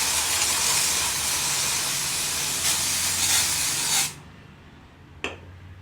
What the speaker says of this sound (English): I'm going to be putting this volume spray in my hair